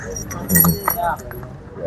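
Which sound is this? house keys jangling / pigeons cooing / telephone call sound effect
house keys jangling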